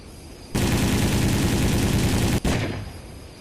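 A missile fires in the Neo Warfare game, a sudden loud roaring whoosh bursting in and holding steady, briefly cut, then trailing off.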